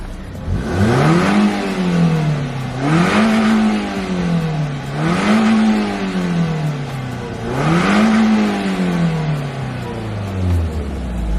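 Close, loud engine of a Toyota Yaris SR revved four times in a steady rhythm while stationary, each climb and drop in pitch distinct, with no voices over it.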